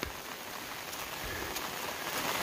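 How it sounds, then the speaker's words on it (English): Rain patters steadily on an umbrella along a hiking trail, a dense, close hiss of drops with soft taps and no voices. "Here comes the rain."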